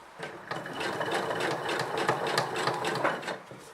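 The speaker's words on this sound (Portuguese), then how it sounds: "cozer mesmo por cima da costura" A sewing machine runs steadily, stitching over a seam on cut-and-sew foam for bra cups, a fast continuous mechanical whir with rapid needle clatter, close and fairly loud, with no talking.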